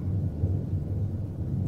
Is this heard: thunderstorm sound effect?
yes